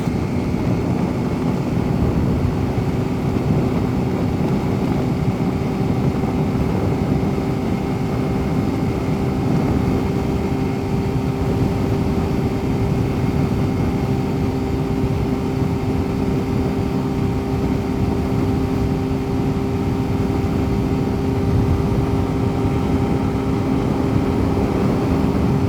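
A Yamaha FZ Rave 150cc commuter motorcycle ridden flat out at top speed, a steady, unbroken engine drone with strong wind rush, loud and close throughout, with no talk.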